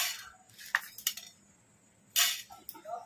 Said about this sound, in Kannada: ಈಗ ಇದಕ್ಕೆ 1-2 ಸ್ಪೂನು ಧನಿಯಾ ಹಾಕೋಣ.